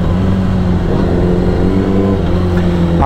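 A motorcycle engine revs hard and steadily while the rear wheel slips on a slick surface, a loud, continuous droning roar with little change in pitch across the whole moment.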